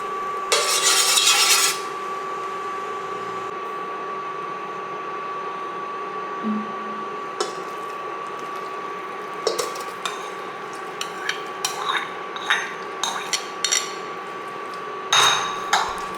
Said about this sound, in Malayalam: ഒരു 5 മിനിറ്റ് നല്ലപോലെ ഇളക്കി കൊടുക്കണം